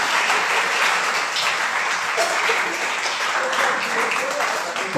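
Audience applause at a Portuguese-language lecture event: a sustained, dense wash of clapping lasting throughout, loud and fairly close, with some voices mixed in.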